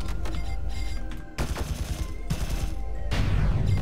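The ion cannon in the game Sublevel Zero fires continuously in loud, dense bursts of rapid crackling shots, with brief gaps between the volleys.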